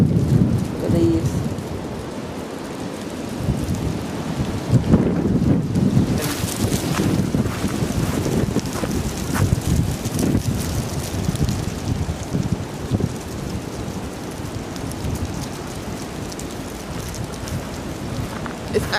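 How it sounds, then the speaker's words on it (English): Strong storm wind roaring and gusting with rain, buffeting the microphone with heavy low rumbles, loud and continuous, with occasional surges over a steady wash of noise. "It's actually very windy"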